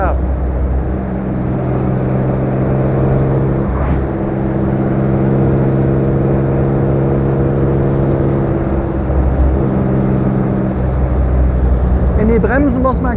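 A 1954 Jaguar XK 120 OTS engine hums steadily under way, a loud low drone with a constant pitch that holds through the drive, dipping briefly before swelling again.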